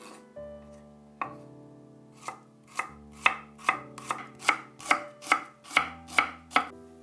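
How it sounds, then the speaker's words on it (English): Knife mincing shallots on a cutting board, with a steady series of sharp chops that start sparse and speed into a quick even rhythm, close and clear with no talk. "Mince 4 shallots."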